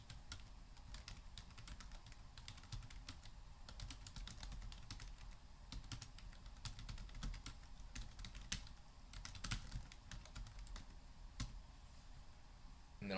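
Steady typing on a computer keyboard, a quiz description being entered as a continuous patter of quiet, close key clicks with brief pauses and no talk.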